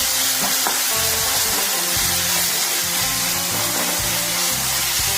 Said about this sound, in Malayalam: ഇനി നമുക്ക് ഇഞ്ചി വെളുത്തുള്ളി പേസ്റ്റ് ഇട്ട് കൊടുക്കാം